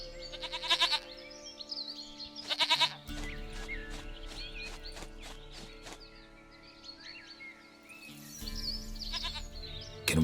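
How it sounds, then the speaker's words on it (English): A goat in Witcher 3 bleats in repeated nasal calls, clear and close, alongside a shaky string of pulsing bleats and a low background hum. "goat of mine, dearest, sweetest goat."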